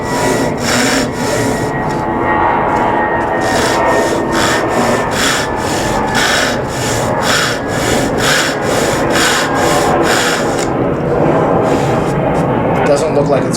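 Rhythmic strokes of a Gyokucho 372 razor saw, a Japanese dotsuki takebiki pull saw, cutting through wood, each pull a bright rasping burst in a steady train of about twenty, close and loud, with a little talk faintly underneath.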